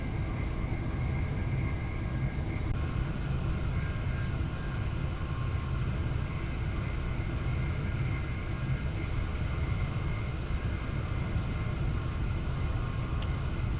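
A train on a UK airport rail link in Train Sim Classic rolls along at speed, giving a steady, continuous rumble with a faint whine on top, unchanging throughout.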